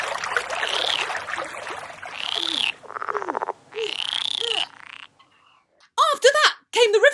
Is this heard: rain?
no